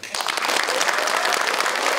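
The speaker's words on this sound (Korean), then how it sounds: "다시 한번 신원철 의장님께 큰 박수 부탁드립니다" Audience at a local council law-revision forum breaking into applause, a dense, continuous burst of clapping that starts abruptly and holds steady at full strength.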